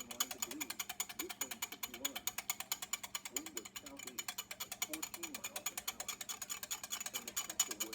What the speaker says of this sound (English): Now we're going to use the whisk and really get that anchovy paste